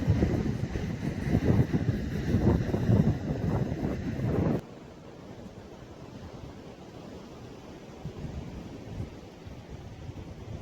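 Strong coastal wind at a beach at Skinningrove on England's east coast buffets the microphone with loud, rumbling gusts for several seconds, then drops suddenly to a softer, steady rush of wind and surf.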